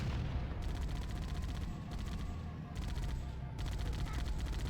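Sustained rapid gunfire in the first-person shooter Halo: Combat Evolved, steady automatic bursts broken by short pauses, loud and continuous with no music or voices.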